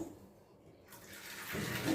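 A cup of water is poured over three-quarters of a cup of jaggery to dissolve it, a soft, faint pouring hiss that swells partway through and grows fuller at the close.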